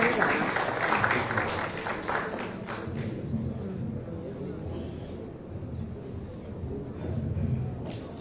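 An audience at a malaria-control symposium applauds the arriving health minister, a dense patter of clapping that starts fairly strong and thins out, with murmuring voices and room noise underneath.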